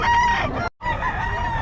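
A rooster crows loudly and close by, a brief harsh call broken by a short gap.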